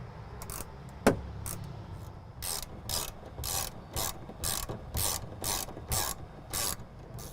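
Ratchet wrench cranking down the strap bolts on a replacement water tank under a Winnebago Revel camper van, with a sharp knock early on, then a steady run of close, rhythmic clicking bursts.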